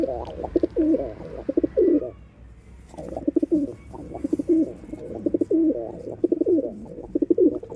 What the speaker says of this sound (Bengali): এই যে খোপের মধ্যে লটটি ডাকাডাকি করছে